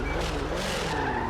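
Car tires skid and squeal with the engine roaring in a GTA roleplay driving scene, a sustained smeared screech heard up close with no pauses, under faint background voice.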